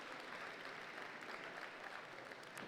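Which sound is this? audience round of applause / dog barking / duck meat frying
audience round of applause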